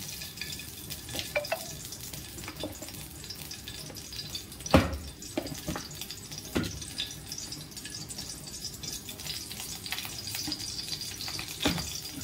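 Ghee sizzles steadily in a hot kadhai for making jaggery lapsi, a constant crackling hiss, with occasional clinks of a utensil against the pan.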